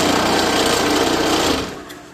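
A commercial floor scraper stripping glued carpet from concrete shakes hard, giving a loud, dense rattling buzz for about a second and a half before quickly dying away.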